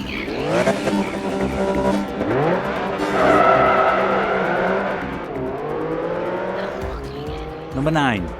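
Racing cars in the Xbox video game Project Gotham Racing 3 skid with loud tire squeals and roaring, revving engines, the screeches rising and falling in long sweeps over continuous motor noise, with a voice talking over them.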